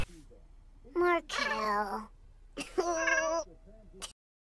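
A small stray cat meows several times in short, fairly close cries with pauses between, clear and alone against a quiet background.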